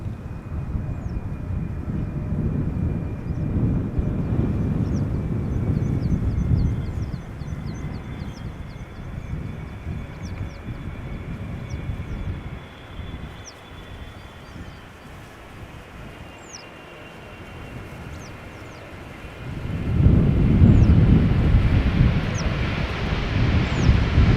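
KLM aircraft PH-BVP landing at Schiphol after a flight from Willemstad, Curaçao; a rumbling engine roar rises, eases into a quieter stretch, then surges loudly again, with wind noise throughout.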